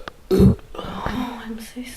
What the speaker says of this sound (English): I've never burped so much or so loud